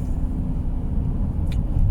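A car drives along with a steady low rumble of engine and road noise heard from inside, and a brief faint squeak near the end.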